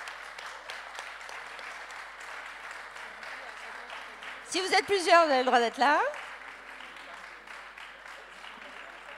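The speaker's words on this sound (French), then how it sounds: "et on les applaudit." An audience at the Labels Territoire Innovant 2018 award ceremony keeps up a steady, moderate patter of applause while a presenter talks over it, inviting winning teams onto the stage.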